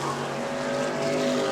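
E-Mod race cars roar around the oval track at New Smyrna during a race, a loud, continuous engine drone holding steady harmonic pitches that rise slightly as the field passes, with no clear speech.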